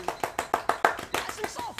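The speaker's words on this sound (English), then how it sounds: "those were golf claps" Soft golf claps during a golf video game, about nine light hand claps in a quick, even rhythm, close and fairly quiet.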